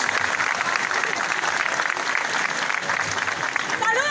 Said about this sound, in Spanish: Vamos a ver esos aplausos.